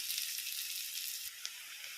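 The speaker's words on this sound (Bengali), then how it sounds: "পেঁয়াজ ভাজাটা হয়ে গেছে" Onions frying for a chicken curry give a faint, steady sizzle in a pan, a soft continuous hiss with one small pop near the end.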